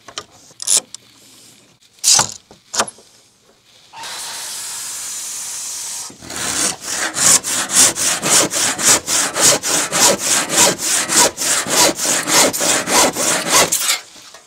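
A cordless saw cuts through two wooden boards at once for a bookshelf, preceded by a few sharp knocks and a steady motor burst, then a long run of rapid rhythmic rasping strokes, loud and close, with no talking.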